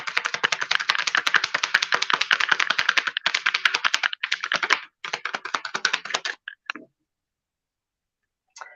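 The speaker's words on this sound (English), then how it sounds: "let me finish up the shuffle." A deck of tarot cards being shuffled, a rapid run of crisp, close riffling clicks lasting several seconds, then breaking into shorter bursts and a few last taps before silence.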